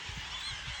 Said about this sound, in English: We have seagulls everywhere on our marina.